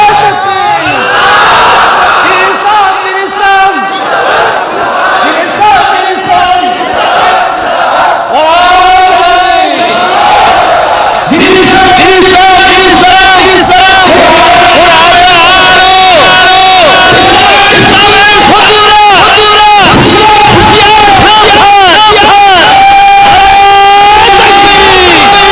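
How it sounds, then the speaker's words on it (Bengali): A large crowd at an outdoor Islamic waz mahfil gathering in Madaripur district chants the takbir slogan, with loud, massed rhythmic shouts rising together in repeated waves that grow fuller and more insistent. "তাকবীর আল্লাহু আকবারের একটা স্লোগান দাও"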